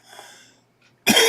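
A single loud, harsh cough bursts out near the end, following a short stretch of quiet breathy noise.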